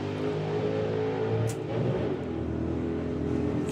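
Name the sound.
drag racing pickup truck engine shifting gears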